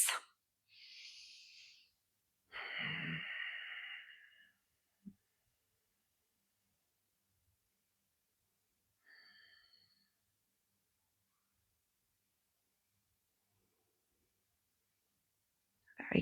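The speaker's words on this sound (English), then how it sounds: "So really focus on that deeper inhalation" Slow, deep breaths drawn in and let out during a beginner yoga session, a few soft separate inhales and exhales with long quiet gaps between them, close and gentle.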